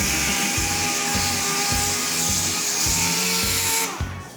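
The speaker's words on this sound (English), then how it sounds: "Sanding fiberglass is a lot different than sanding metal." A power sander whines and grinds steadily up close on a fiberglass '69 Dart hood, loud and continuous with a pulsing rhythm as it works the surface, then eases off at the end.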